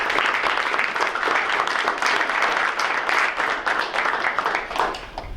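Dense, sustained applause from a crowd at a school board meeting, steady and loud throughout with no pause.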